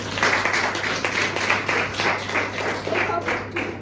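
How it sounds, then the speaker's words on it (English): A Toastmasters meeting audience gives a round of applause, a dense, steady clatter of many hands clapping in a room that continues throughout at moderate volume. "I think she deserves a big round of applause."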